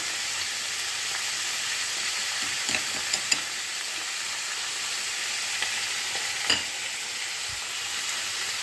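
Figs frying on high flame for a vegetarian fig curry, a dense, even hiss of hot oil that runs throughout, with a few faint taps and clicks of utensils.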